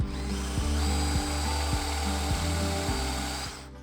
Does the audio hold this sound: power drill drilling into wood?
yes